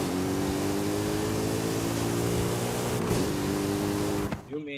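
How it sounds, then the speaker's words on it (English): A car engine in the racing game Forza Horizon 5 drones at a steady, sustained pitch, loud and constant, then cuts off abruptly near the end. "Well, I guess it'll give me the perfect opportunity to listen to the engine noise."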